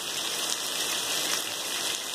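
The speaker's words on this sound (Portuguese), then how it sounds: "Chove em toda a área metropolitana do estado de Pernambuco." Steady rain falling across the Pernambuco metropolitan area on a wet winter morning, a constant close hiss of drops with no breaks or voices.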